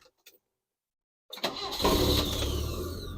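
A BMW engine cranks and fires on the first press of the start button after a short silence, then settles into a steady, close idle.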